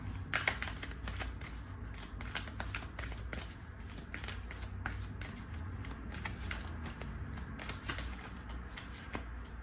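An oracle deck of cards is shuffled close by, with a steady run of quick riffling flicks and soft papery slaps that continue throughout at low volume, no voice.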